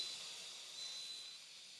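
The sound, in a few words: steam hissing from Instant Pot pressure release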